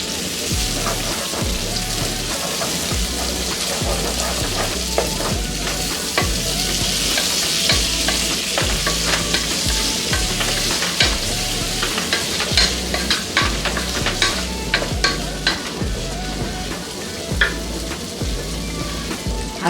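Ridge gourd fries in a pan with cumin seeds and curry leaves, giving a steady dense sizzle with rain-like crackle and a few scrapes of stirring throughout, with no talking.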